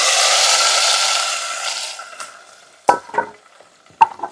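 Onions and curry leaves sizzle in hot oil, a dense hiss that fades as dal is poured in, followed by a few sharp scrapes and knocks of a spoon stirring the pan.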